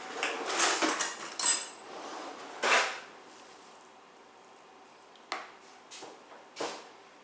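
Metal kitchen utensils clatter and clink in a few quick bursts as a spoon is pulled from among them, followed by quieter pauses and two more sharp clanks.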